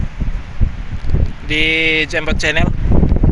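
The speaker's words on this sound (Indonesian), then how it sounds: "Anginnya kencang sekali." Strong wind buffets a microphone outdoors in loud, rough gusts, with someone talking over it briefly.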